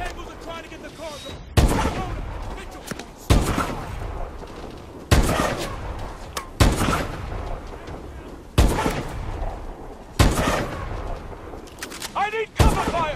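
Heavy gunfire and explosive booms in a Call of Duty: Advanced Warfare firefight, arriving as loud sharp blasts roughly every second and a half, each decaying into noisy rumble, with shouted voices between them.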